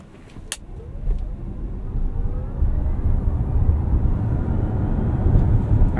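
A 2023 Genesis GV70 Electric Prestige launching from a stop in sport mode without boost, a low electric motor hum and road roar building steadily in loudness from inside the cabin, with a brief click at the start.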